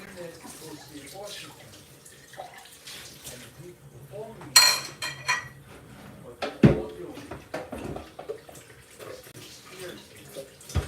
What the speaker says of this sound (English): Just rinsing the blender here,